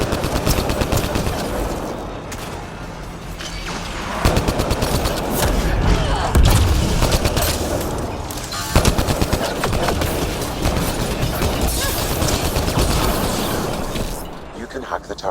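Turret gunfire in the sci-fi shooter Mass Effect Andromeda, rapid sustained automatic bursts with thuds and blasts, loud and dense throughout, with voices talking over the shooting.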